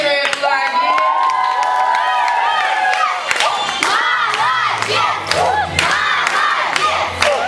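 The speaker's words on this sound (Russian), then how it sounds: "Ну и получает свою награду. Аплодирую Дарье." A crowd at a summer camp award ceremony bursts into loud, sustained cheering, shouting and clapping, with children's voices whooping over continuous applause throughout.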